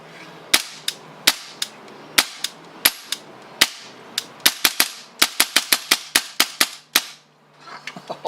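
Volante Stratos 1911 Hi-Capa airsoft pistol firing a string of sharp, snappy shots, first spaced singly and then in quicker bursts, close and loud with no talking.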